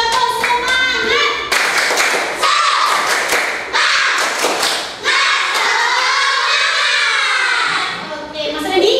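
Classroom of children doing a rhythmic spirit clap, loud sharp bursts of clapping in patterned groups with chanting voices between and under the claps.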